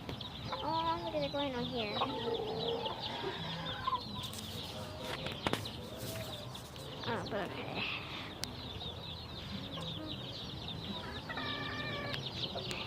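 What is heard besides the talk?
chickens clucking during feeding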